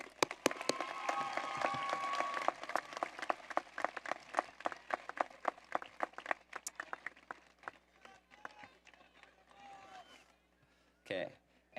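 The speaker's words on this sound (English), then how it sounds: "can we just give a big round of applause to all the older brothers and sisters who led the way so we could make it here?" At a school district event, an audience claps for older brothers and sisters, sharp close claps loud at first and thinning to scattered claps as the applause dies down, with a brief voice near the end.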